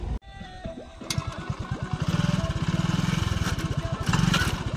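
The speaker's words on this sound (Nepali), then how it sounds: "फेरि यो बाइक पनि जाने होला।" A motorbike on a road near a forest park engine puttering with a rapid pulsing beat that grows louder and steadier as it draws close, nearby and prominent.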